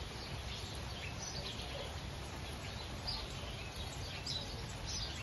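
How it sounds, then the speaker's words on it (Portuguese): Faint bird chirps and tweets scattered over a soft, steady hiss of background noise, distant and quiet. "Uma tranquilidade, barulho de passarinhos."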